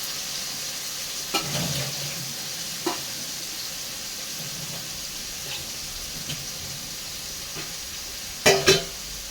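Bitter gourd and brinjal fry in a pan with a soft, steady sizzle, punctuated by occasional scraping stirs and a couple of sharper clinks near the end, fairly quiet and close with no talking.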